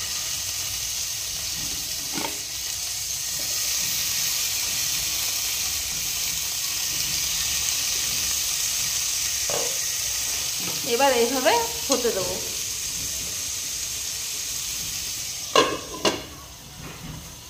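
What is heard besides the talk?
chicken tikka skewers sizzling in a buttered pan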